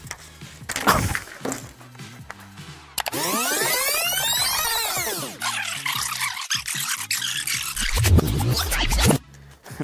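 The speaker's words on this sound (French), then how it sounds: "vous prenez une paire de ciseaux" Scissors cut at fast-forwarded speed, a rapid run of scratchy, sweeping snips and rasps, with a few dull knocks along the way.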